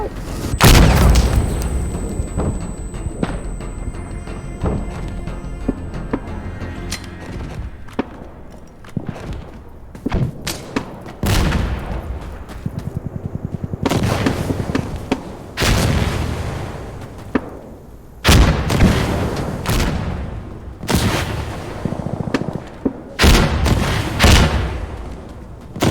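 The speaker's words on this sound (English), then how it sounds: "Smoke mortars are finished." A smoke mortar barrage in Insurgency Sandstorm pounds through a battlefield as repeated heavy booming impacts and thuds at irregular intervals, loud and close, mixed with gunfire and an occasional high whine.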